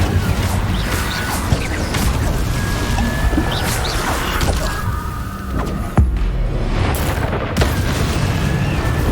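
Incendio fire spell blasts in Hogwarts Legacy, a dense run of booming, crashing bursts with sharp impacts around the middle, loud and continuous with game effects layered throughout.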